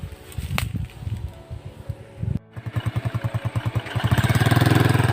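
A motorcycle engine starts and runs close by, a pulsing chug that settles into a steady, faster idle and grows louder toward the end, with no talk over it.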